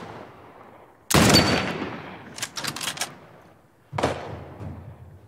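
Gunfire in The Last of Us: a sharp, loud shot, then a rapid cluster of cracking bursts, and one more heavy shot a second later, all close and with no talking.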